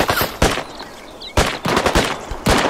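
Gunfire in the survival shooter Deadside: sharp, loud bursts of shots come in several groups, a few rapid reports each, separated by short quiet gaps with no talking.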